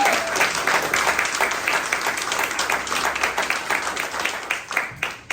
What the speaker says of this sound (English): if I could get a round of applause for Joe for doing that.